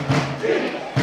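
Packed grandstand of a women's rugby match crowd, roughly 2,500 to 3,000 people, a brief broad roar swelling and easing, with a sharper burst of cheering at the end.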